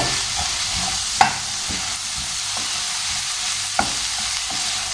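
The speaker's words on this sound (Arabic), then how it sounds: "نخليه حتى هو يتشحر مزيان ويطيب" Onions and sliced fresh mushrooms sauté in a pan with a steady, close sizzle, broken by a few sharp clicks of a utensil stirring against the metal.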